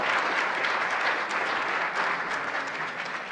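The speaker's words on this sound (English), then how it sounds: "We'll give you a round of applause." A church congregation applauds to welcome first-time visitors, a steady, even wash of many hands clapping at once, sustained and fairly close throughout.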